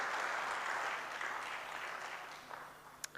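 Audience at an academic psychology conference session applauds its presenters, a soft, distant wash of many hands clapping steadily before tapering off, with a couple of sharp knocks at the end.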